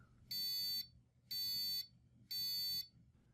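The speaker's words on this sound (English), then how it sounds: "You should immediately start to hear the repeating beep." An Arduino-driven piezo buzzer sounds three identical half-second high-pitched beeps spaced evenly about a second apart, loud and clean over a quiet background.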